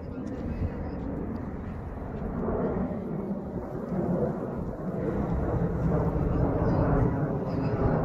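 A JetBlue airliner flies overhead with a broad, rumbling jet roar that builds slowly and stays loud throughout, with people talking faintly beneath it.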